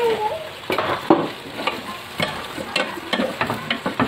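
Squash and string beans fry in a hot pan with crabs, a soft sizzle broken by repeated scraping stirs and clatter at close range, without voices.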